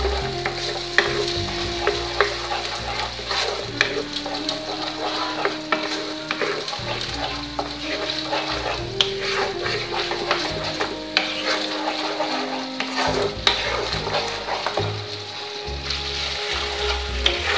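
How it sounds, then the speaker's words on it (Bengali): Paneer curry fries in a pan while it is stirred again and again, a loud constant sizzle with frequent clinks and scrapes of the spoon against the pan, heard up close without any speech. "দেখুন আমি ভালো করে এটা নাড়াচাড়া করছি।"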